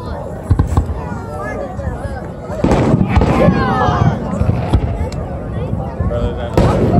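Fireworks burst high in the sky in a string of loud, uneven booms and crackles, with onlookers chattering and exclaiming close by throughout.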